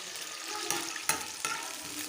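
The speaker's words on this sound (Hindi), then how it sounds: "पहले मैं इसको अच्छी तरीके से बादामों को फ्राई करूँगी।" Almonds frying in a pan for Kabuli pulao, a steady soft sizzle with a few sharper stirring scrapes, heard alone without talk.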